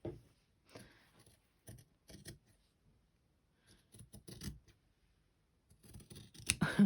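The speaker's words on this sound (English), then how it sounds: "Okay, I'm going to cut it out." Scissors snip through fabric to cut out a lined envelope, a series of short crisp crunching cuts separated by quiet pauses, close and fairly faint, with the last few snips louder.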